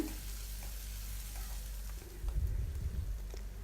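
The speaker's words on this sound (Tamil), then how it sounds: "வெங்காயம் நல்லா பொன்னிறமாக ஆகிற அளவுக்கு நல்லா வதக்கிக்கோங்க." Onions fry with mustard seeds and urad dal in a pan for prawn curry, giving a continuous close sizzle that grows louder and busier midway as they are stirred, with scraping rustles and no talk.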